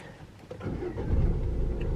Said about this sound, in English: I'm also just going to actually put on the engine because I don't want to run my